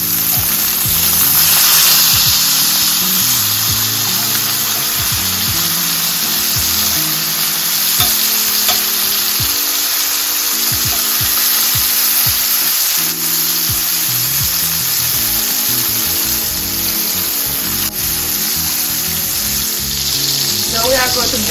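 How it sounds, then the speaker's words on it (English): Lamb chops sear in a pan with garlic butter, giving a loud, steady sizzle and spatter that runs the whole time, with a tonal, music-like layer underneath. "we're gonna sear them until they get a nice, beautiful color for about 3 minutes on one side"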